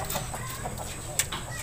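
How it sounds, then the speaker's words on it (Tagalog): Chickens cluck in short bursts, with a brief sharper squawk near the end, over a steady low background hum. "So may mga manok din dyan."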